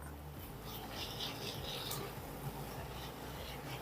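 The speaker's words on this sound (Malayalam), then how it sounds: "ആ പൊടികളുടെ പച്ചച്ചുവയൊന്ന് മാറുന്നിടം വരെ ഒന്ന് നന്നായിട്ട് ഇളക്കി കൊടുക്കുക." Spoon scraping and stirring spice powders in a pan while cooking malai kofta masala, a steady soft rubbing and scratching that runs continuously and close by, with no talking.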